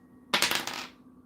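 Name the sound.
dice being rolled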